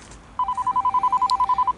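An electronic telephone ringer trills in a rapid, evenly pulsed burst of about a dozen beeps, clear and fairly close, over faint background noise with no speech.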